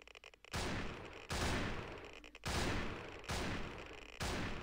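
Gunfire in the online battle royale game Thrive Island Battlegrounds: four loud, sustained bursts of rapid shots, each lasting under a second to over a second, separated by brief quieter gaps.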